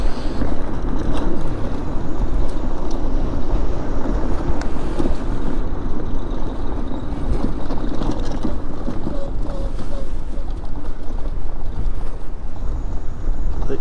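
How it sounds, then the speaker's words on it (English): Steady, blustery cold wind roars across the microphone at a lakeside campground on Lake Texoma, a constant low rumble with gusts and faint background noise. "And it's windy and cold."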